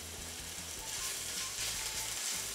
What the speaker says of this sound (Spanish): Salteamos entonces cebolla, pimentón